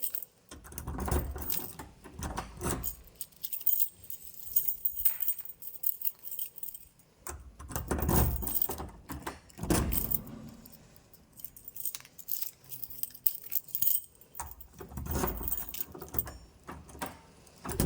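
Metal keys jangle in bursts while someone searches for a toilet key in a housing unit, with several separate rattling spells and quiet gaps between them.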